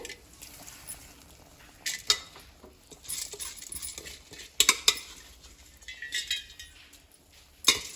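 Rice being stirred in a cooking pot with a utensil, heard as irregular scrapes and metallic clinks in short bursts with quiet gaps between, close and fairly soft, with no speech.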